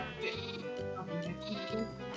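Several overlapping sheep bleats from the video game Minecraft, repeating in a steady, wavering rhythm, moderately close and fairly quiet.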